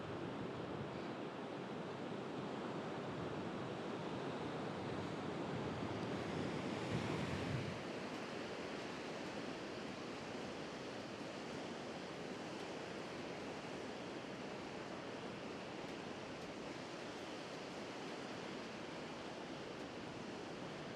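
Blustery wind buffets the microphone on a Cornwall beach between Porthtowan and Chapel Porth, a constant roar of surf and gusts that swells briefly then settles into a steady wash with no voices.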